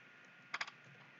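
A short burst of typing on a computer keyboard, three or four quick, faint clicks in a quiet room.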